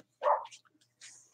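A dog gives a short bark followed by a couple of soft whimpers and a final higher yelp, close by in a quiet room, begging for food.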